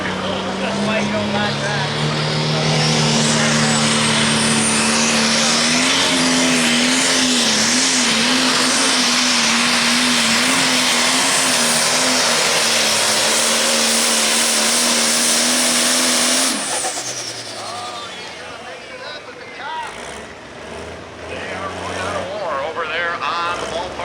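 A powerful 8,500 lb diesel pulling tractor roars at full throttle for about fifteen seconds at a pull in Hillsboro, Wisconsin, a loud sustained drone that cuts off abruptly, with a voice talking over it.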